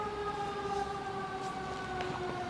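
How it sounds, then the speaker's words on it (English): A distant siren outdoors sounds a long, steady, multi-toned wail that stays faint and unbroken throughout, with no one speaking. "we got some sirens today as well"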